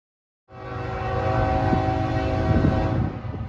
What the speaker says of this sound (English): comes steamrolling across the Diamonds heading east with a pretty big train